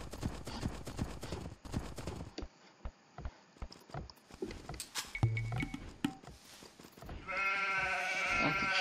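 Sheep bleating in the video game Age of Empires II, a nasal bleat rising near the end over earlier rhythmic clip-clop hoof steps and scattered game clicks.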